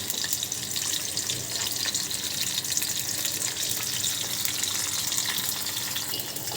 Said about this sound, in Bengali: করলা ভাজিতে রসুন দিই।